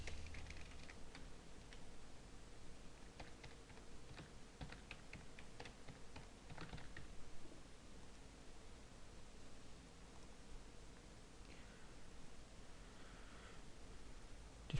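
Computer keyboard typing of a password during a Microsoft Exchange Server 2003 installation, with steady key clicks in bursts over faint background hiss and no talking.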